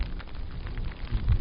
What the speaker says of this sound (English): now the weather is, hope you can hear it, driving rain